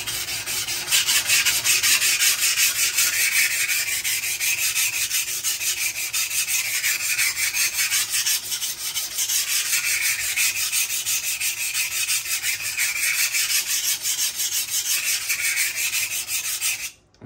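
A knife blade is drawn across a Buck Honemaster sharpener in a steady run of raspy scraping strokes, close and loud, with a long rhythmic swell every few seconds and no talk.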